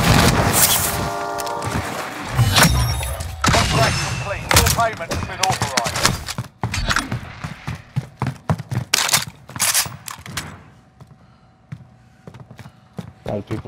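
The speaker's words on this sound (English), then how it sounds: "A lot of people shooting me." Gunfire in Call of Duty: Modern Warfare, with repeated sharp shots in bursts during a match, loud at first and thinning to scattered reports toward the end, mixed with voice chatter and game effects.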